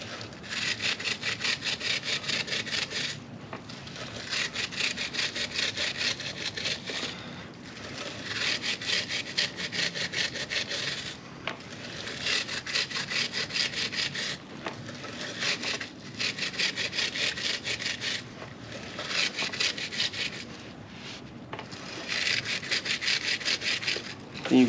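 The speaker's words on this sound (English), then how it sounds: "I'll just keep going through until the whole chain is scrubbed in with lubricant." A Kawasaki Vulcan S motorcycle chain being scrubbed with lubricant, heard as repeated bursts of hissy brushing strokes in a steady rhythm with short pauses between passes, close and continuous over the whole span.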